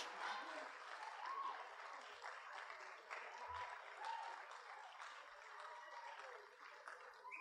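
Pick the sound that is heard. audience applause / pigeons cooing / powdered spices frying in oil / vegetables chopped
audience applause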